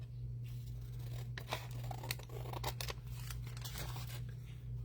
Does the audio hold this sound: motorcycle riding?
no